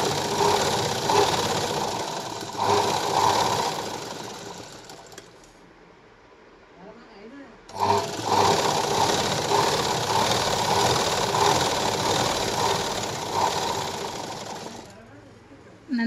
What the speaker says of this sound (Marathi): नंतर जागेवर आपण कपडा पलटी करायचा आहे आणि एकदम कडेला आपल्याला शिलाई मारून घ्यायची.